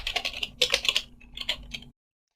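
Rapid keystrokes on a computer keyboard as an nmap command is entered, a close, crisp burst of clicks for about two seconds, then silence.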